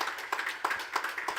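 Audience applause at an awards ceremony: a steady patter of claps with repeated sharper bursts roughly every third of a second, moderately loud and alone, with no talk over it.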